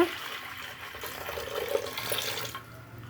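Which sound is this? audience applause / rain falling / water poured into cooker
water poured into cooker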